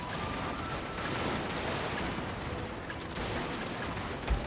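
A dense, continuous roar of massed musket volleys and artillery fire in a Total War battle with Russian forces, crackling steadily at high volume with a sharper boom near the end and no voices.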